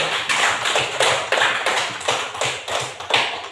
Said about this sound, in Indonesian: Mari kita tepuk kelompok D.